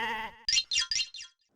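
A goat brought into a police station bleats in four short, sharp calls in quick succession, close and loud, following a brief drawn-out tone.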